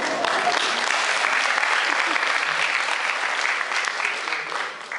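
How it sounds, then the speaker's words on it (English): Audience at a model UN opening speech breaks into loud, dense applause that holds steady for about five seconds, thinning slightly at the close. "I hope for some applause from the women."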